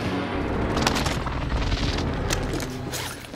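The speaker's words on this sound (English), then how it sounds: "Precision airstrike." Precision airstrike in Call of Duty: Modern Warfare, a sustained barrage of heavy booming blasts and rumbling impacts filling the scene, loud and dense throughout.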